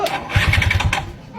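Motorcycle engine cranking over and over without catching, a rapid series of chugging turns in the first second that stalls out, with voices talking around it.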